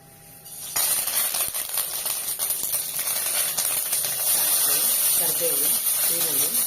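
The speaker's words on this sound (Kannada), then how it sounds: "ಕರಿಬೇವು, ಈರುಳ್ಳಿ ಚೆನ್ನಾಗಿ ಫ್ರೈ ಮಾಡ್ಕೊಳ್ಳೋಣ." Curry leaves and onion hit hot oil for a tempering with a sudden loud hiss that settles into a steady, close, spattering sizzle.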